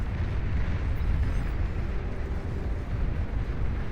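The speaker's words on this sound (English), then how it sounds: "So Daedalus is up and running too, with its long-range Gauss cannons, can fire away quite effectively" Heavy booming barrage from Daedalus long-range Gauss cannons in the real-time strategy game Beyond All Reason, a continuous loud rumble of overlapping blasts with no talk.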